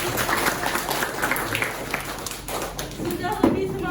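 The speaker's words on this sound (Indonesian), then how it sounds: "Oke, tepuk tangan buat semua." A class claps together in a teacher training lesson, a busy burst of clapping and thumps with voices mixed in, fading near the end.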